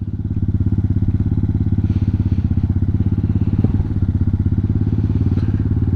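A Hawk 250 Enduro motorcycle engine runs loud and close with a steady, fast-pulsing throb and a rough exhaust note, holding strong throughout with occasional clatter and no speech.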